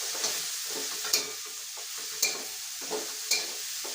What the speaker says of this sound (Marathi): आणि बघा हे पण असं चांगलं 1-2 मिनटं परतून घ्यायचं